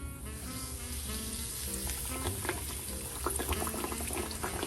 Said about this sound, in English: It's like music to your ears when you hear a pork chop frying.